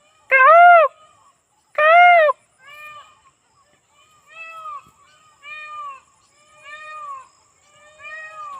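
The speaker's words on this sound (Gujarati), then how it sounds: "આપણું રાષ્ટ્રીય પક્ષી બોલી રહ્યું છે." A peacock, the national bird, calling outdoors in a village: two loud, wailing, harmonic cries followed by a series of softer, shorter answering calls, spaced about a second apart against an otherwise quiet background.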